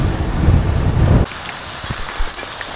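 A heavy rain downpour hammers down during a gravel bike ride on a Pride Jet Rocx 8.2, loud dense rain that abruptly drops after about a second to scattered drips and patters.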